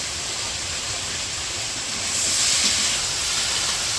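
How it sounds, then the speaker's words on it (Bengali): Fish pieces sizzle in hot oil in a village kitchen pan, a continuous close hissing and crackling that swells a little louder partway through, with no talk over it. "এই পাশে হচ্ছে মাছগুলো ভাইজে নামাই নিচ্ছে"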